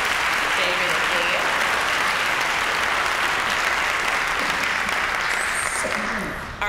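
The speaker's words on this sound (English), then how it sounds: "So let's give them another round of applause" Sustained audience applause fills a hall at a high school senior awards night, a dense, steady wash of clapping that holds loud throughout and tapers slightly at the end.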